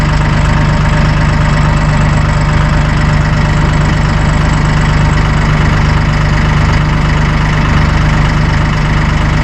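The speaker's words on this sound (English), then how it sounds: "But listen how quiet it is, man. This is amazing. This Izeki premium power engine." A Massey Ferguson 1840M compact tractor with an Iseki engine idles close by, a steady low diesel hum with an even mechanical throb that holds unchanged throughout.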